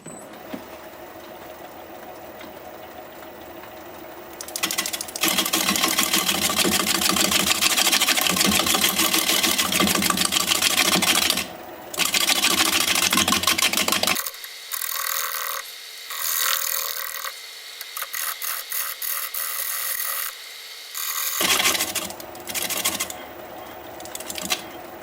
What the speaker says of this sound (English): I'll do some shear scraping over here